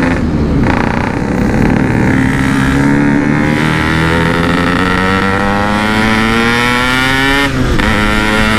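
A Yamaha RX King 147 motorcycle engine roars loudly and continuously while riding on a busy road, its pitch climbing steadily as the revs build, with a brief dip near the end.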